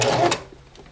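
Sewing machine making a final stitch through fabric while the fabric is steered, a short loud burst of rapid mechanical whirring that cuts off into a quiet tail.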